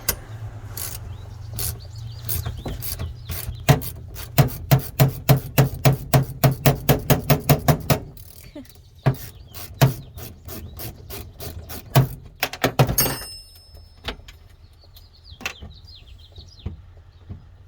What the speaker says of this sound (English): I'm using 14 mils on both the ratchet and the wrench. I'm gonna go ahead and pop this one loose real quick.